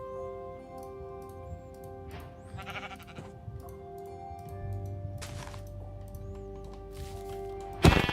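Sheep bleating in a Minecraft-style SMP game world, a few short bleats rising over steady background game ambience and ticking, with a sharp louder burst near the end.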